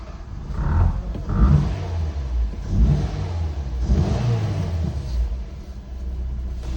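A car engine rumbles close by after being started, running unevenly with throttle blips and rising revs over a steady low drone.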